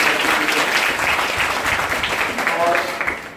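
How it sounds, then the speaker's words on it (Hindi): An audience at a drug-awareness event in a classroom hall claps loudly and continuously, dense close applause sustained throughout with faint voices underneath. "एक बार जोरदार तालियां"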